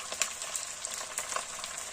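Chicken feet fry in hot oil with a dense, even sizzle and a few sharper crackles and pops, close and continuous with no voices.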